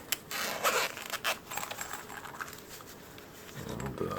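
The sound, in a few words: zipper pouch being handled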